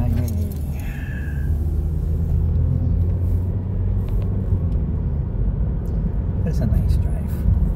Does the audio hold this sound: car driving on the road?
yes